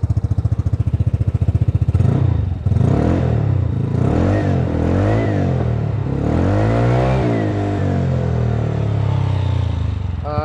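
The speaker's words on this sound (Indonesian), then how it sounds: "Itu bunyi dari knalpot Remusnya." A modified Vespa Sprint scooter revs hard through a Remus aftermarket exhaust, opening with a rapid idle putter and then rising and falling in several loud, rasping revs close up.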